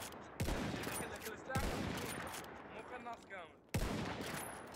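Battlefield 1 gunfire: sharp, loud rifle shots crack out three times at irregular intervals, each with a ringing tail, over a busy game background with a voice talking faintly.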